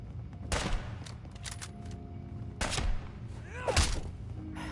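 Gunfire in the video game Fallout 4: a few separate bursts of shots, each a sharp crackling cluster, spread across a few seconds over a steady background hum with faint talk-like sounds.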